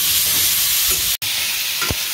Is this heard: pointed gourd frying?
yes